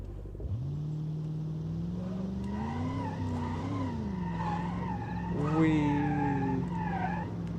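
A car in the BeamNG driving game skids loudly and deliberately crashes, an 80s American premium car, with a sustained engine drone and tire squeal rising and bending in pitch, then a burst of rough noise.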